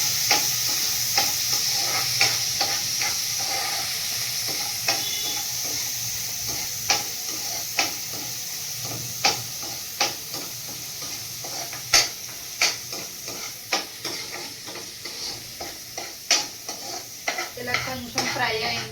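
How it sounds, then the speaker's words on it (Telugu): Dried prawns with sesame cake frying in a pan, a soft steady sizzle broken by frequent scraping and clinking strokes of a spatula against the metal, close and without talk. "కొంచెం ఫ్రై అవ్వాలి."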